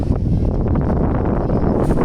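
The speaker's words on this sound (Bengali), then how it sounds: "বাতাস, প্রচুর বাতাস" Strong gusty wind blows outdoors during sudden bad weather, buffeting the microphone with a loud, constant low rumble and rushing noise throughout the short stretch, with no voices.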